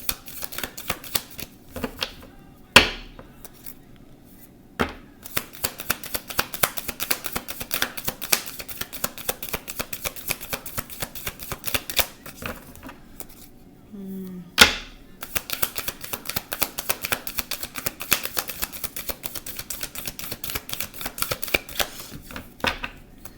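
Tarot cards are shuffled repeatedly in quick riffling bursts, with a few sharp taps and brief pauses between rounds.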